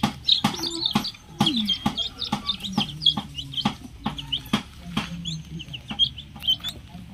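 Young chicks peeping in a chorus of high, rapid chirps, mixed with sharp knocks and clucking nearby, moderately loud and close.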